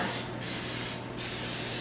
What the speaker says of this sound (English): Spray it with some stuff here